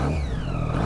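Triumph Daytona 675 motorcycle with an inline triple engine and Aero exhaust revving up close, a loud continuous engine roar with rising tone.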